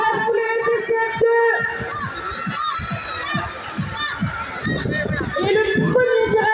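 Crowd of children shouting and cheering at a primary school running race in Paris, a steady dense roar of young voices with a few sharper yells, close and continuous throughout.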